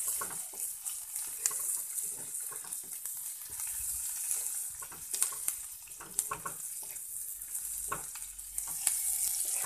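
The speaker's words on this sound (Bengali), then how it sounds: "এখন পেঁয়াজ দিলাম, কাঁচা পেঁয়াজটা ভালো করে মন ভেজে নেব।" Raw onions frying in a pan make a bright, steady sizzle with occasional spatula scrapes and small crackles, moderately loud and close, no voices.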